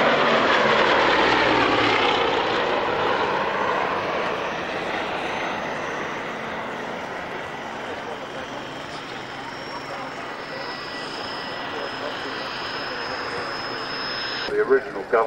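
A vintage aircraft engine drones past at the North Weald airshow, a broad loud roar that slowly fades as it moves away, leaving a steady distant hum, with an announcer's voice running underneath.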